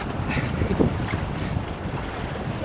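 Wind buffeting the microphone aboard a sailboat running downwind, a steady close roar with some rushing water mixed in, continuous and loud.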